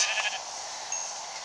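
A sheep in a video game bleats once, a thin, faint synthetic cry over a steady hiss, short and alone.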